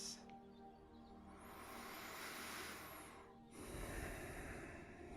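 Slow, deep breaths, each a long breathy hiss with a short gap between, heard close and quiet over a faint low hum.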